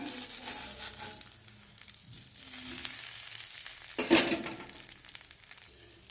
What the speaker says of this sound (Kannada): ದೋಸೆ ಹಾಕಿದ್ದೀನಿ ಈಗ ಇದು ಬೇಯಬೇಕು